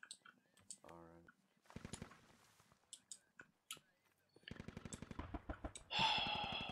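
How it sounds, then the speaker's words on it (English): Short bursts of gunfire in the Squad video game, aimed at a destroyed BTR armored vehicle, come as two rattling volleys separated by quieter clicks and pauses. "Somebody just shot a dead BTR twice"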